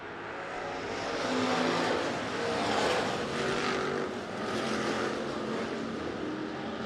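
A race car at a dirt oval speedway running rough behind the pace car during a caution lap, its engine a loud, steady, ragged drone with a wavering roar and no talk over it.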